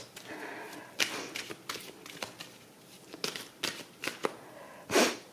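Tarot cards shuffled and handled for a reading, with a series of soft, quiet riffling and tapping bursts and one stronger shuffle near the end.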